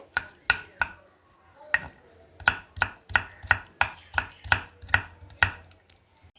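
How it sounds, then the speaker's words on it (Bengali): A knife chops peeled onions into small pieces on a board, about fourteen sharp, distinct strokes in an uneven rhythm with short pauses, close and clear in a quiet kitchen. "এরপর পেঁয়াজটাও আমি ছোট ছোট এইভাবে কেটে নিচ্ছি।"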